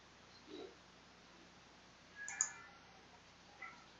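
A computer keyboard key is pressed while working in AutoCAD, giving a few faint, isolated clicks spread over a quiet few seconds, with no talking.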